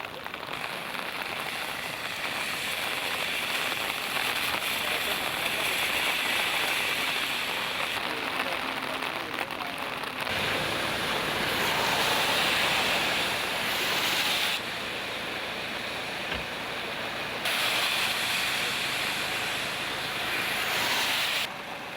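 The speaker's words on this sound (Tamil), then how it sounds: "வர்தா புயல் தாக்கத்தை அடுத்து சென்னையின் பல பகுதிகளிலும் நேற்றிரவு முதல் கனமழை" Cyclone Vardah lashes Chennai with heavy rain and storm wind. A loud, unbroken roar of downpour and gusts surges and eases in waves, with abrupt shifts in intensity throughout.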